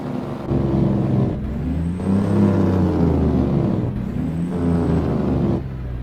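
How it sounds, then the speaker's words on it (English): A Caterpillar C18 truck engine in American Truck Simulator, loud and near, droning and burbling with a deep throaty rumble that cuts off and surges back twice, like a Jake brake engaging, with no talking. "Let's Jake brake this thing."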